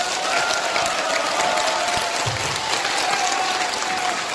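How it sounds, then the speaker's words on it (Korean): An audience at a Korean political party event claps in steady, dense applause that continues evenly for a few seconds at a moderate distance. "큰 박수 부탁드리겠습니다"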